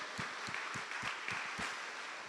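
Applause for church leaders at a family worship service, a few steady rounds of clapping from a gathered congregation, moderately distant and even in rhythm.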